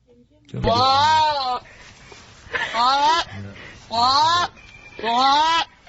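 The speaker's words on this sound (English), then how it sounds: "Let's hear the goat again." A goat bleats four times in long, wavering cries spaced about a second apart, loud and close, with voices faintly between the calls.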